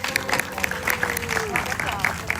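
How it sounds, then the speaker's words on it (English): A crowd at a live animation show at Disneyland claps and cheers for the moonfish, a steady wash of applause with a voice talking over it. "everyone get a round of applause for the moonfish"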